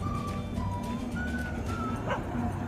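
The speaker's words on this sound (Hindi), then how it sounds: "ये भौंक रहा है भाई।" A dog barks and yips a few times at a distance, short sharp calls over a steady low rumble of outdoor background noise.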